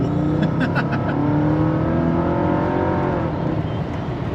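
A Mercedes E55 W211 engine revs through a quick acceleration, the note climbing steadily and loud up close, with a few brief clicks near the start and no talk.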